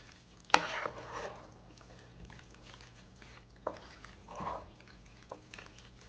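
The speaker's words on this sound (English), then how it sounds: "Now my favorite part, mixing the noodles and the cheese sauce together." Macaroni noodles being stirred into cheese sauce, a quiet, wet squelching and sticky slapping with a few soft clicks of the utensil against the pot, close up and without talk.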